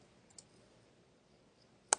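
A computer mouse gives a single faint click followed by a sharper, louder click at the end of an otherwise near-silent stretch, as a library catalogue search is submitted.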